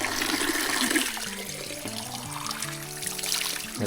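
Water pours into a small bottle being filled near the Keshavraj temple, a gurgling stream whose pitch rises steadily as the bottle fills, close and clear, with no talking.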